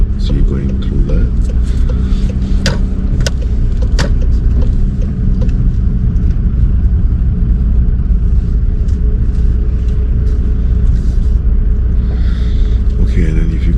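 Steady car engine rumble from inside a vehicle on a driving test, rolling continuously at moderate level with occasional small thumps and bumps, no voices heard.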